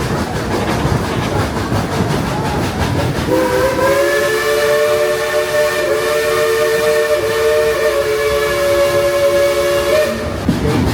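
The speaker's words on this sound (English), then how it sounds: "This is my second day in a row that I've ridden a train." A steam train ride at Dollywood theme park: the chuffing, rattling run of the train underlies a long, loud multi-tone steam whistle that sounds for about seven seconds before fading back to the rolling rumble.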